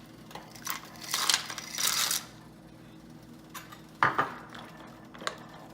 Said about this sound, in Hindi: एबे आमे पास्ता ऐड करबा